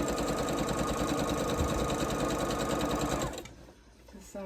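A sewing machine runs steadily while stitching quilt pieces for a mystery quilt, a loud continuous mechanical whir that cuts off just before the end, leaving quieter room sound.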